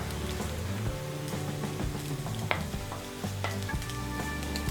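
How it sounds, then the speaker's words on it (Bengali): Fried paneer pieces tipped into rice in a hot pan, sizzling steadily while being stirred, with scraping and clinking of the spoon against the pan throughout. "এখন আমি এর মধ্যে দিয়ে দেব ভেজে রাখা পনিরের টুকরোগুলো।"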